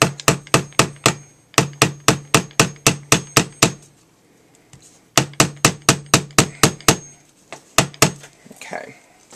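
Steady hammer blows on a canvas necklace holder craft, delivered in two quick runs of about a dozen sharp, close taps, each followed by a short pause.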